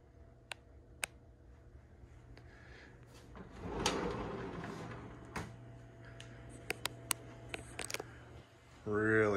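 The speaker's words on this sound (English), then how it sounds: "Two little sliding doors" Two small sliding closet doors in a one-bed cottage roll and bump, giving a soft rolling swell and several sharp clicks and knocks nearby, with a brief rising sound at the end.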